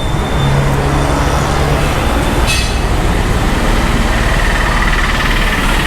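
Steady roadside traffic noise on a quieter side road, with vehicles rumbling past continuously at moderate distance and a brief higher hiss midway, no talk.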